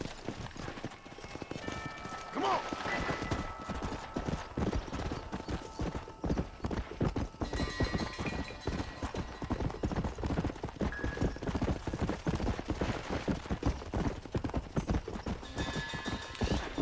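Steady, rapid clip-clop of horse hooves from Red Dead Redemption on Xbox One X, a continuous galloping rhythm throughout with faint tonal game sounds layered underneath.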